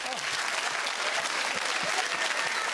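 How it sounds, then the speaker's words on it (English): Studio audience applause on a television show, dense steady clapping from a full room that carries on at even strength for the whole stretch. "And the audience clapped, and as the applause died"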